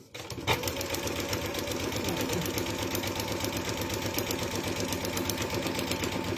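A sewing machine stitching a foundation paper pieced heart quilt block at a short stitch length runs steadily at an even, rapid whirring pace for several seconds, loud and alone.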